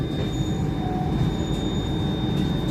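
A Rajdhani Express in 2AC class pulls out of Kathua Junction toward Jammu Tawi, heard from inside as a steady rumble with a faint, thin whine of wheels and no voices.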